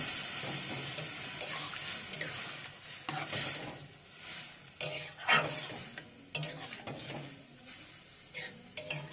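Papaya halwa is stirred in a pan with a utensil, scraping and clinking against the metal in an irregular rhythm over a soft sizzle, close by with no talk.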